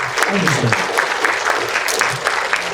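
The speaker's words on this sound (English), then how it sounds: "Give them a clap." An audience at an awards night claps steadily and warmly, a dense, even patter of many hands that holds at a moderate level from start to finish.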